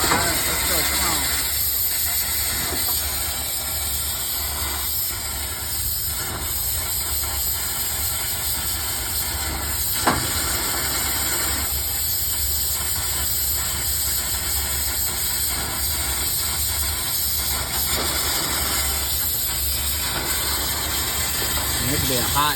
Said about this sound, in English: You got a legit boiler behind you. Steam running everywhere.